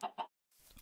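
Two quick clucks from a chicken in the Minecraft video game, close and clear, followed by a short gap and then faint background game noise.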